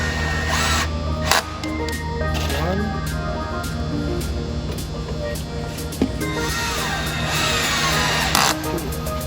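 Power drill driving a screw into aluminum window cladding while glass is installed in an aluminum-clad window, a steady mechanical whir running throughout with a couple of sharp clicks and knocks over a constant workshop hum.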